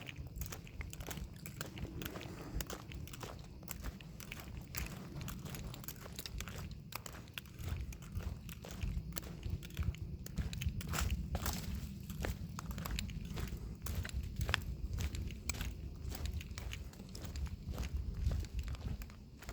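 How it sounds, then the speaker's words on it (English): Steady crunching footsteps tread over dry leaves and twigs on a forest floor in August, a close, regular rhythm of crackling steps that continues throughout. "Crunchy feet."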